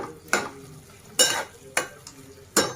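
Cucumber and tomato cooking down in a pan for chutney, stirred in four separate scraping strokes over a soft steady sizzle, close and clear with no talking.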